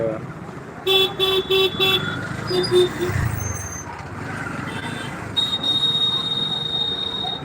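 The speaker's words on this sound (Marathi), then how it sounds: "गर्दीमध्ये खूप ट्रॅफिक" Busy road traffic at a vegetable market in Pune rumbles close by, with several short horn toots in quick succession and another long honk later, while voices murmur underneath.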